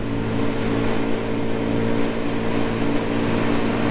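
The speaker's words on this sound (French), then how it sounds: "là il est en échappement d'origine, ça ne fait pas trop de bruit, mais on a quand même le bruit de la moto" A Yamaha MT 125 motorcycle with its stock exhaust runs steadily, a moderate, even engine hum with a constant low drone and no revving changes throughout.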